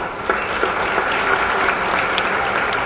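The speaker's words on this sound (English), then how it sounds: "Gio, can we give him another round of applause," Hall of Fame event attendees give Gio another round of applause, a short burst of dense, even clapping from a large crowd.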